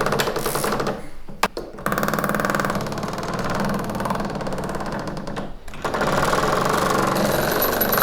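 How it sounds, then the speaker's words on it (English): A diamond-tipped engraving machine cuts a barley pattern into a silver pencil barrel, a loud continuous mechanical rattling and buzzing with brief pauses as the tool backs off and moves on. "Two diamond tips, they go into the surface. It pushes the tool in against the barrels, back off, back down."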